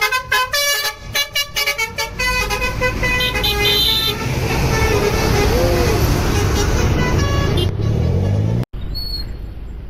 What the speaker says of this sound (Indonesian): kali ini ada bus Keramat Jati teman-teman